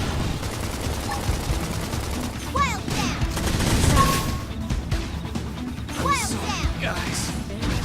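A flame grenade goes off during combat in the video game Xenoblade Chronicles, with dense crashing, popping blasts over steady battle noise and effects.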